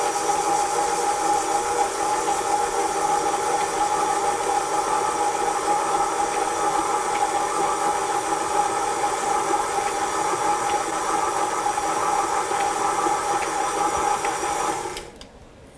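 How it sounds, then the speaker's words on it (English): An electric cake mixer runs on its lowest setting while mixing vanilla cake batter, giving a steady, loud whirring hum that holds evenly for about fifteen seconds before cutting off abruptly at the end. "we're just going to switch on our mixer. And initially we want it on a very low speed"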